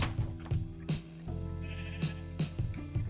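Sheep bleating in the video game Minecraft, several repeated bleats in quick succession over a few seconds, close and clear, with no talk over them.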